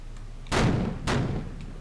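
Heavy cruiser main-battery gunfire in the Pacific naval game Victory at Sea Pacific: two sharp, booming shots about half a second apart, each with a short rumbling tail, fairly loud over a quiet background.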